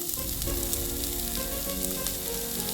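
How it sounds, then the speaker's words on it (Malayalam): Sliced onions and curry leaves sizzle in a pan on the stove for a soybean dish, a steady, dense frying hiss that runs throughout with no voices. "ഞാൻ ചട്ടി അടുപ്പ് വെച്ചിട്ട് സവാള ഇട്ട് കൊടുക്കുന്നത് കേട്ടോ കൂടെ കുറച്ച് കറിവേപ്പിലയും കൂടെ ഇട്ടിട്ട്"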